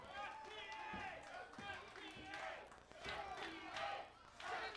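A wrestling crowd cheering at a six-person tag team tables match at a benefit show, rising and falling in loud, rhythmic waves of chanting and shouting voices.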